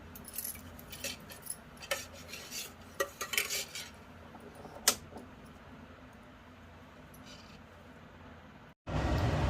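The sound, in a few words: kadai pan set on a gas stove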